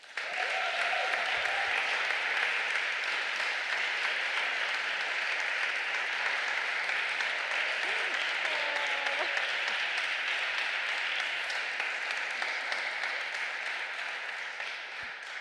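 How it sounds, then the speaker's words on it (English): A conference audience breaks into steady, dense applause that holds at an even level for about fifteen seconds before easing slightly at the end, with faint voices mixed beneath. "let's give an applause to Elena."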